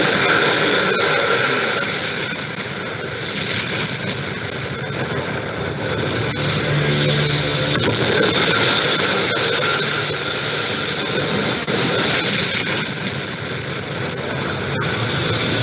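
A Rolls-Royce jet engine blade-off test is heard from inside a building 200 yards away: a loud, continuous, broadband roar and rumble that swells and eases slightly over several seconds.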